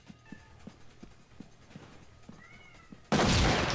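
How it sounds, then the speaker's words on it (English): A house cat gives a few faint meows against quiet background clicks, followed by a sudden loud burst of gunfire from a SWAT 4 police shooter game. "My cat is shouting."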